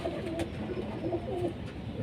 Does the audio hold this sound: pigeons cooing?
yes